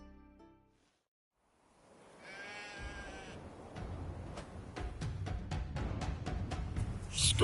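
Sheep bleating in The Witcher 3, a single wavering bleat rising out of near silence, followed by a steadily building rumble of ambient game noise with sharp clicks and taps.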